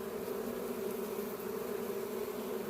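A swarm of bees hums steadily while being moved into a permanent hive box, a soft, continuous buzzing drone at moderate distance with no voices.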